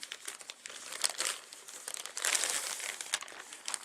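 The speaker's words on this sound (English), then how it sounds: "let's just get it out of the packaging here" Plastic packaging crinkles and rustles up close as a Chrome OS CR-48 laptop is pulled free, a steady run of crackling handling noise with no talking.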